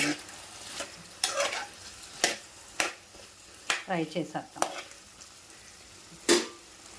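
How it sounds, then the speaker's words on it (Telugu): Thin potato slices frying in shallow oil for a Telugu-style aloo fry, with soft sizzling broken by sharp stirring scrapes and clinks at irregular intervals; nobody speaks. "బంగాళదుంపలు సన్నగా తరిగి ఆయిల్లో ఫ్రై చేసేద్దాం"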